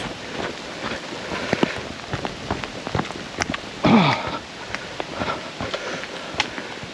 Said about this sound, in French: J'arrive à Saint-Étienne-de-Tinée sous une pluie battante.